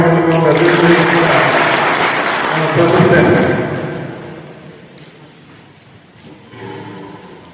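Loud applause from an audience at a cooperative-sector public function honouring a newly elected district cooperative central bank member, sustained for several seconds, then fading to quieter crowd murmur with a brief later swell.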